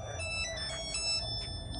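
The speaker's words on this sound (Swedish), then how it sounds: "Nu ringer din telefon." A mobile phone ringtone plays as a steady repeating electronic melody, fairly faint against a low background hum, with no talking over it.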